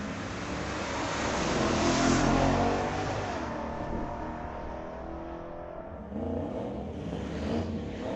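Street-legal cars launch down the drag strip at Mission Raceway Park on a Friday night, a loud engine roar swelling to a peak and then fading as they pull away, heard from the trackside.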